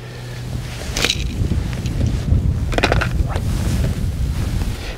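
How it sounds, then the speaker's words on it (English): Wind buffets an open fishing lake, a constant rough rumble with gusty bursts and hiss that stays loud throughout, no voices heard. "It's not ideal, this wind."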